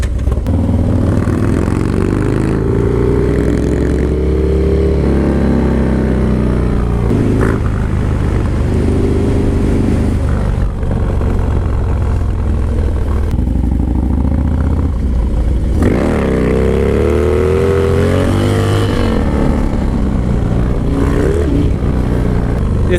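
A Harley Low Rider S motorcycle is ridden hard, its engine droning loud and steady with rising and falling revs and wind rush throughout, with no talk.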